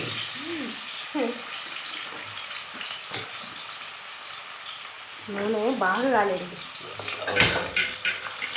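Hot oil spatters and crackles in a pan on a home stove while chicken and onions cook. The sizzling runs steadily and swells partway through, under women's chatter and laughter.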